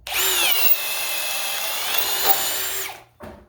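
A Ryobi compact cordless brushless 18V drill driver whines at speed, a loud close high-pitched motor run that holds steady for about three seconds, then cuts off with a short burst after.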